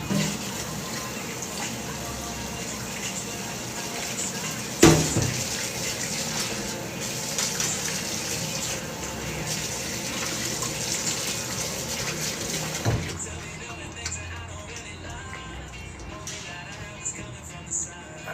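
Tap water runs steadily into a kitchen sink while food is rinsed, a continuous close gushing wash with a brief clatter partway through and a slight change in tone near the end.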